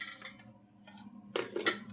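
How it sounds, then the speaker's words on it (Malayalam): Kitchen dishes and pots picked up and set down one after another, a few clear clinks and clatters close by, with a louder cluster of knocks near the end and no talking. "ഇത് ഞാനിങ്ങനെ ഒന്നെടുക്കും അവിടെ വയ്ക്കും, അടുത്തൊരു പാത്രം എടുക്കും അവിടെ വയ്ക്കും"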